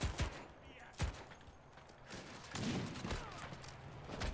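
MG42 machine gun fire in the video game Enlisted, heard as loud sharp bursts and single cracks spaced through the stretch, with a denser rattling run of shots toward the end.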